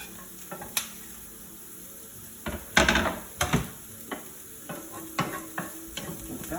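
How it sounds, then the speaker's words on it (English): Garlic goes into a frying pan of softened onion over medium heat, giving a low background sizzle punctuated by several sharp close clacks and scrapes of a utensil against the pan, with no talking. "We can add our garlic now."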